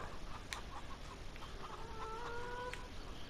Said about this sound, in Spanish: mira la gallina